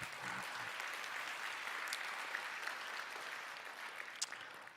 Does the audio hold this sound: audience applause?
yes